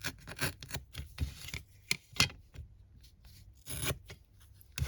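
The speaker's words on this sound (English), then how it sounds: "It's too heavy a paper for me, probably to rip." Heavy, pre-aged craft paper is torn by hand in a series of short, uneven rips and rustles, close and fairly quiet, with brief pauses between the tears.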